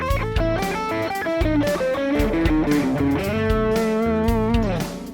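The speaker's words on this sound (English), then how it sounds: "a triplet based line which against the backing track would sound like this" A distorted electric guitar plays a quick triplet melodic line over a steady backing track with drums and bass, ending on a sustained bent note.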